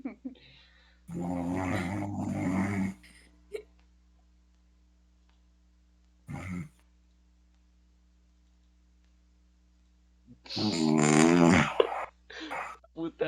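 A man sleeping snores very loudly in long rasping, growling bursts: two long snores at first, a short one, then another long grinding snore. Quiet stretches fall between them, recorded close by.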